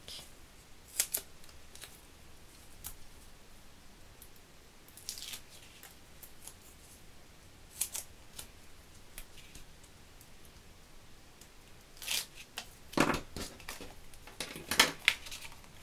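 Scattered snips of scissors cutting paper while making a birthday card, a few isolated clips early on and a quicker cluster of cuts near the end, close and fairly quiet.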